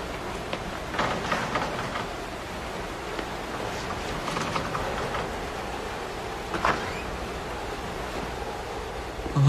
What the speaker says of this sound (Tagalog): Ay, naku, lakas talaga ng ulan.